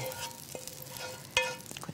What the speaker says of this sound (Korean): 이거 이제 볶아서 이제 덜어놓으면 되니까